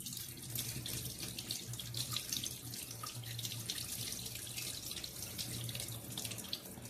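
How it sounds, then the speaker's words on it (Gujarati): Continuous rush of water pouring out as washed moth beans are drained by hand, steady and close with a faint low hum beneath. "હવે આપણે તેનું આ રીતે પાણી કાઢી લઈશું।"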